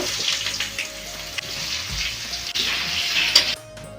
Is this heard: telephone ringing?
no